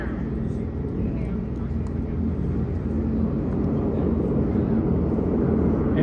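Airplane flying overhead at the Oshkosh airshow, a steady low engine drone that holds and swells slightly, with a voice talking over it.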